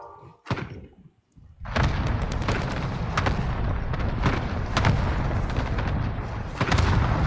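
Gunfire and explosions in the video game Warzone: a single sharp shot, a short lull, then dense continuous firing with repeated heavy booms and cracks, loud and close, without any talk.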